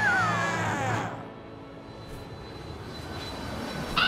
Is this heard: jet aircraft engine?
yes